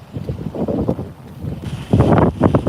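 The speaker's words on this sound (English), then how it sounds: "And as you can see from the camera, it's a little windy out here." Blustery wind buffets the microphone in uneven low rumbling gusts, loud and close, with no other clear sounds.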